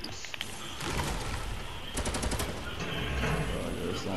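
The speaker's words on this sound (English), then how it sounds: "Yay, I finally get the LMG." A light machine gun fires in Fortnite, loud rapid bursts of automatic gunfire crackling continuously with a dense, close, clattering rhythm and brief gaps between volleys.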